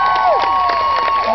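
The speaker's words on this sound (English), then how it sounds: "let's give her a big round of applause" A crowd cheers and whoops in a lively bar setting at a Heineken event, bright voices and yells filling a short burst with scattered clapping under it.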